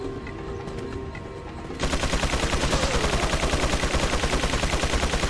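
Machine gun fire in the video game Resident Evil 4: after quieter background, a loud, fast, even stream of rapid shots starts suddenly and keeps rattling steadily to the end.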